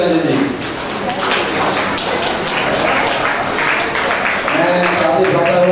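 Applause from an audience at a BJP Mandal training camp closing session in Chandigarh, welcoming a speaker onto the stage; steady dense clapping with scattered taps and thumps, fairly loud and continuous, with voices talking over it.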